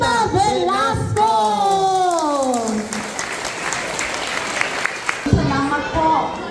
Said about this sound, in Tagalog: Administrator ng Pinagpala Orphanage na clap at milyong palakpak si Mrs. Elenita Velasco.